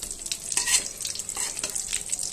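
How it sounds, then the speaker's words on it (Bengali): Bata fish frying in a pan, a close, steady sizzle with bursts of spattering oil and light stirring, no voices. "এখানে মাছগুলো প্রায় ভাজা হয়ে গেছে।"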